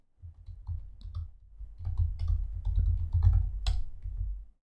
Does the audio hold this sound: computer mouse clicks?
yes